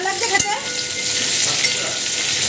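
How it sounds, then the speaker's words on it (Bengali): Onions and chopped capsicum being stir-fried for chilli chicken, a close, steady oil sizzle with a soft clank and scrape of the spatula against the pan early on. "এরপর একে একে ক্যাপসিকাম কুচি দিয়ে সামান্য নেড়ে নেব।"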